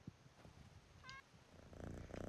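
A cat purrs in the Skyrim VR video game, a low, soft, continuous rumbling purr, quiet and close, with a brief tonal chirp partway through.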